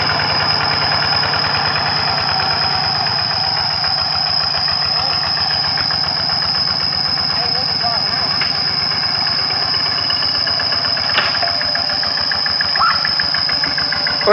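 Tractor engine chugging steadily and loud throughout while plowing a flooded rice paddy, a constant rhythmic diesel throb with a droning whine, with people talking over it.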